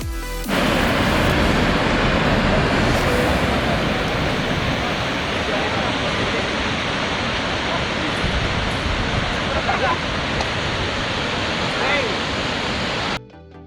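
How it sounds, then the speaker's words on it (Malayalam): Barachukki Falls at Shivanasamudra, flowing with reduced force outside the monsoon season, roars as a steady, loud, broadband rush of falling water that holds constant throughout. "ഈ കാണുന്നതാണ് ബാരാചുക്കി ഫാൾസ്"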